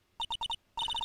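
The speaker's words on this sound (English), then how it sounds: "Nick, your phone!" Electronic phone ring from Phoenix Wright: Ace Attorney – Trials and Tribulations, four quick bright trills, a short gap, then a longer run of rapid trills, clear and alone.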